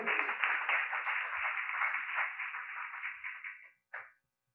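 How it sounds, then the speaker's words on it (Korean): An audience at an award ceremony applauds a recipient of a commendation: a steady wash of clapping, fairly distant and modest in volume, stops abruptly, with one last short burst before silence. "축하의 박수 보내주시죠"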